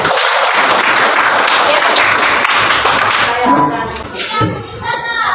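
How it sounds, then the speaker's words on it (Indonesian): Students in a school classroom clap together at the end of a religion lesson, a loud, continuous wash of hand claps that thins and becomes more scattered in the last couple of seconds. "Tepuk tangan untuk kalian."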